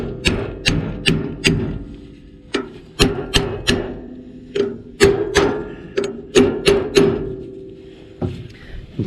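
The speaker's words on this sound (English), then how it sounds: "I have a handy dandy hammer here." A hand hammer strikes a part onto a New Idea 737 husking bed. There are about a dozen close, loud metallic blows in uneven bursts, each ringing out briefly, and no one speaks.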